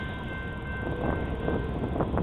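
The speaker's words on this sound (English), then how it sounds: "I found this stack train stopped on the main waiting for clearance to proceed west" A Union Pacific double-stack freight train stands stopped on the main line on Beaumont Hill, giving a steady low rumble of idling locomotives with faint tonal whines and light clanks, heard from close by without talk.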